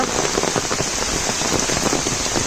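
Heavy monsoon rain pours down in the Konkan countryside, a dense, steady roar of drops on surfaces, loud and continuous with no voices.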